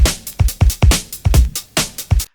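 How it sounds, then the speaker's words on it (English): Breakbeat drum loop with punchy kicks and crisp snares and hats in a busy syncopated pattern, about eight hits over two seconds, loud and close, playing alone with no talk. "So I have this drum loop that sounds like this."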